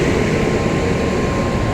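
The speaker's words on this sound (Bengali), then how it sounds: "ইঞ্জিনের আওয়াজে আমার কথা হয়তো শোনা যাবে না।" A WAP7 electric locomotive of South Central Railway hums loudly and steadily at close range, a constant dense mechanical roar with no pauses.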